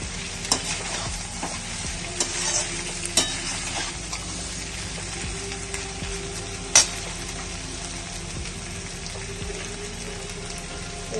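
Vegetables and fried egg for chowmein being stir-fried in a pan, with a steady close sizzle under repeated scraping stirs and a sharp clank near the middle, and no talking.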